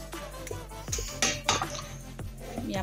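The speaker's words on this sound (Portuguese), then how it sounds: "Aí agora eu vou pôr aqui na minha panela" Grated green papaya being put into an old, worn cooking pot at home, a handful of metallic clinks and knocks of a utensil against the pot, close and fairly quiet, with gentle scraping between them.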